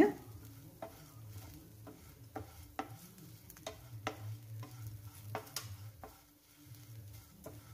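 Onion, ginger and garlic cook down with pirandai in a pan, with repeated utensil taps and scrapes in an uneven rhythm over a faint, low sizzle.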